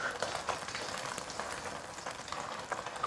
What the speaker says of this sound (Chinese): 把锅炙好过后，下入蛋液。